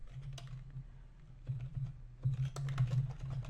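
Close, continuous typing on a computer keyboard, with quick uneven key clicks and a few louder taps toward the end, alone without talk.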